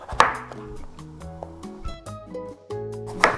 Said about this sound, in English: Gonna cut them in fours. You wanna cut them all the same size so they all cook evenly.